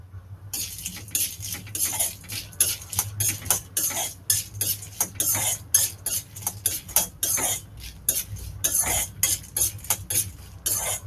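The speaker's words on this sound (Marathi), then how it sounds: "त्याच्यामध्ये मी छोटी वेलची भाजून घेणार आहे." Small cardamom pods roasting in a spoonful of oil in a pan, stirred with a metal spoon: steady scraping and clinking strokes over a low sizzle, close and moderately loud, with no voices.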